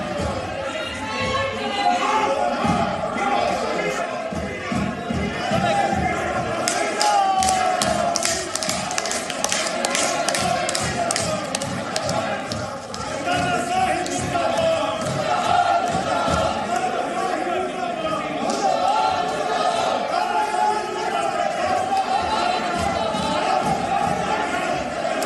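Loud, sustained uproar fills the Rajya Sabha chamber during the farm bill session: many voices shout over one another, with scattered claps and thumps. The din runs unbroken, dense and close, for the whole stretch.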